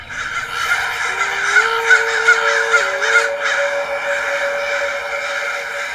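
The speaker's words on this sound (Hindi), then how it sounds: "अचानक से हमारे आसपास इतने सारे कौवे कैसे आ गए?" Many crows cawing in a jungle, repeated harsh caws overlapping in a busy, fairly close chorus, with a steady droning tone running underneath and no voices.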